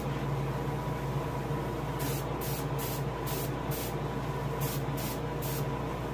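Paint sprayed from an airbrush onto a largemouth bass taxidermy mount, a steady hiss with a run of short bursts in quick succession, close and alone.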